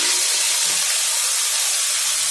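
Potatoes sizzling in hot oil in a pan after eggs have been removed, seasoned with French fry spices, a steady loud hiss running unbroken close up.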